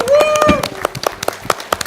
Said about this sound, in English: Round of applause for all the participants and everyone